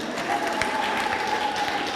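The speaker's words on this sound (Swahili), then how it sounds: "Kwanza niwapigie makofi kwanza." Congregation clapping during a Catholic confirmation Mass at a parish church in Dodoma, a soft, even patter of many hands with a faint tone running under it.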